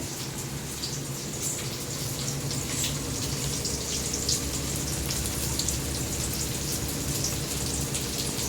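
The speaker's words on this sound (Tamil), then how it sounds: "ஜக்கு தண்ணி காலி பண்ணிட்டு வைப்போம்." Water poured out of a jug splashes and trickles steadily for several seconds, a continuous close pour with no voices.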